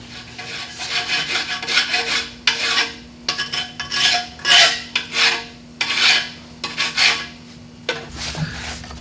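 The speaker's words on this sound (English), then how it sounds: "we'll just take the file and file it down" Steel file rasping over ground metal on a rat rod build, about a dozen loud, close strokes in a steady back-and-forth rhythm with short gaps between them.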